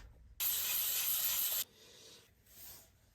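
A bushcraft knife tang being sanded by hand with 120 grit paper on a hard block, one loud close gritty rasping stroke lasting about a second, followed by fainter lighter rubbing.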